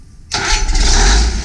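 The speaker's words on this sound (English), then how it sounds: "Okay, start the engine, please." A Cummins NT855 test engine cranked by an S70 starter catches after a short quiet moment and roars up loud and steady, a deep diesel rumble that holds to the end.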